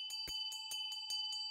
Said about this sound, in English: ring his 7-metal bell